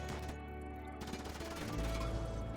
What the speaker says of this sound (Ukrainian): Ану, зроби постріл і тікай.